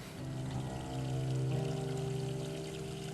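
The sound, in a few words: water being poured for tea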